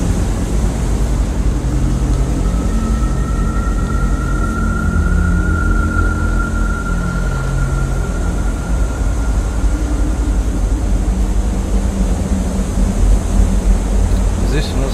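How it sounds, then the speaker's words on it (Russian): In the game Kholat, a steady, loud roar of wind howls through a forest, low moaning tones rising and falling over it, continuous and enveloping throughout. "Как ветер завывает."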